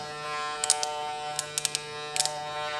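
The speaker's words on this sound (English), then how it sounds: "Gamma prides themselves on the quietness of their clipper." A steady, fairly quiet electric buzz from Gamma Absolute Alpha hair clippers runs throughout, with a few faint clicks and snips scattered over it, close by.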